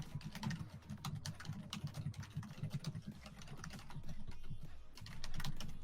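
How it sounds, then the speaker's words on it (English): Rapid keyboard typing clatters steadily at close range, with quick uneven keystrokes and no one speaking. "Sorry about my typing."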